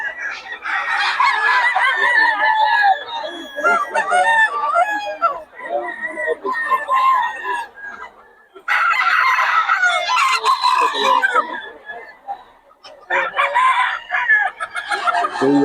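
Several roosters crow loudly and close by, with clucking hens between the calls, in repeated bursts separated by brief quiet gaps.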